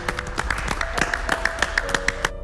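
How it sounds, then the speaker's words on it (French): A small studio audience on a French-language football quiz show claps briefly, the individual hand claps distinct and roughly rhythmic, with some ringing tones in the background. "On peut l'applaudir."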